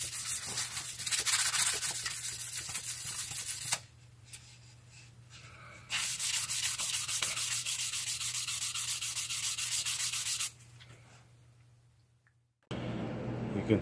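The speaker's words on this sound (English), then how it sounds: "We just want to scuff that finish to accept the new paint." Sandpaper of 400 to 500 grit scuffs the finish on a Yamaha drum shell, heard as close, loud, rough rubbing strokes in long runs, broken by two quieter pauses and a brief near-silence before the rubbing resumes.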